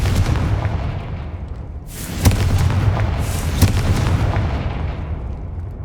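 A Confringo blasting spell in the Hogwarts Legacy video game: a rumbling, sustained roar with two sharp booming bursts, loud and close over a dense low background.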